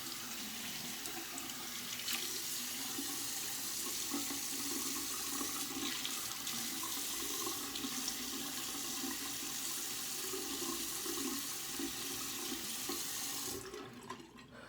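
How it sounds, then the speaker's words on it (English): Hands rinsed under a steady stream of running tap water before a shave, a continuous close rush of water that cuts off abruptly near the end. "Just rinse the hands off here a little bit."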